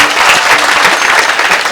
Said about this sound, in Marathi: टाळी वाजवा यांच्यासाठी